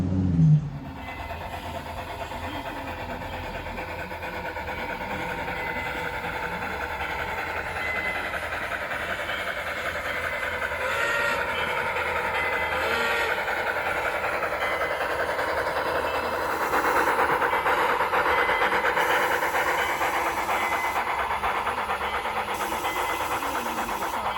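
A newly finished live steam Climax locomotive works along a log branch line, giving a steady, sustained mechanical churn and rolling rumble that builds slightly and holds for the whole stretch, with no talk over it.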